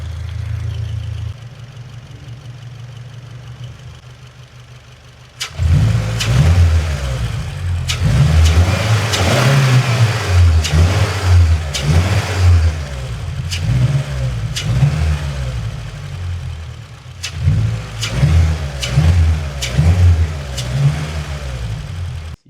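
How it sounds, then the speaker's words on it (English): A Subaru WRX engine idles, then is revved repeatedly while parked, with loud throaty intake sound in rising and falling bursts and brief dips between revs. "There was our sitting standstill revs as well. So hopefully you guys can hear a little bit more of that intake sound."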